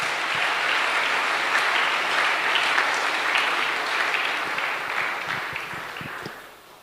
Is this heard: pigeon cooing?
no